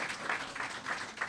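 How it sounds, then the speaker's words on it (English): Audience at an export packaging project handover ceremony gives a short round of applause, a steady, moderately loud patter of many hands lasting just over a second. "Let's give them a round of applause."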